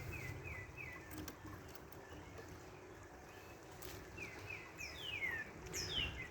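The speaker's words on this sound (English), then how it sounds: "it's a nice, smoothing sound of the birds in the brook." Birds chirping and calling beside a brook, with a steady low wash of flowing water underneath and several sharp, sweeping bird calls cutting in near the end.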